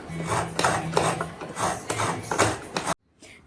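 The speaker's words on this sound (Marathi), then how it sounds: "भाजी चिरून झाली, आता खोबरं किसून घेऊया." Fresh coconut being grated by hand for a rustic fenugreek-leaf bhaji, a rhythmic series of rasping, scraping strokes close up, about six passes with brief pauses, ending in a short silence and a faint final scrape.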